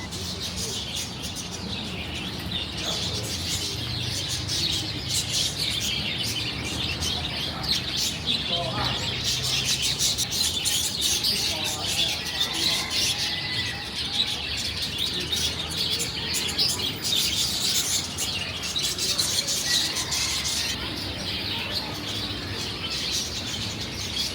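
Birds in a bird shop with chickens, a rooster and pigeons: continuous busy chirping and cooing over a steady street-like background, with scattered human voices in the mix.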